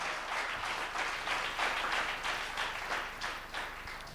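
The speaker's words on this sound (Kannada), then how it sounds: "Come on, you need to clap better than that." A church congregation claps at a worship service, a fairly loud roomful of applause rising and falling in uneven waves with some rhythmic surges.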